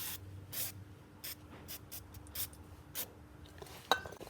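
Brake cleaner hisses onto a VW Golf Mk1 GTI brake caliper in several short, quiet spray bursts of uneven spacing, with a faint clink near the end.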